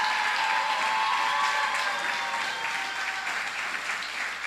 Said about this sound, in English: Don't stop clapping. Come on, audience.